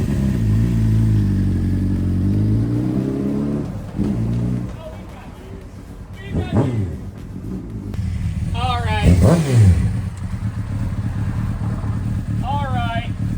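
A Honda CBR600RR sport motorcycle engine idles low, then revs sharply in rising and falling bursts, close by, with a person talking at times.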